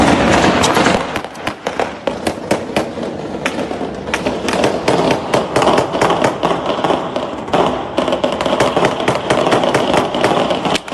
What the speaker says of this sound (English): that much gunfire, it sounds like there's gun battles taking place in the streets